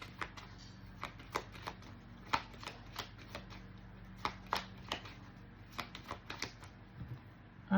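Marseille tarot cards are cut and shuffled with soft, scattered clicks and riffles, some in quick clusters. The sound is quiet and close, with no voices.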